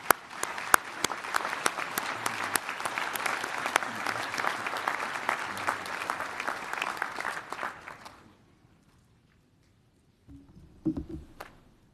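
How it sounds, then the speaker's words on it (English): A crowd at a Chicago College of Osteopathic Medicine graduation bursts into sustained, dense applause for about eight seconds before it stops abruptly, followed by silence and a brief voice. "Give yourselves a round of applause."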